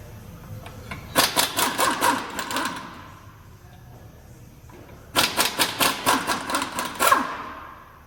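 A power tool, likely an impact wrench, removes the wheels from a 2020 C8 Corvette, heard as two loud rattling bursts of about two seconds each with a quiet pause between them.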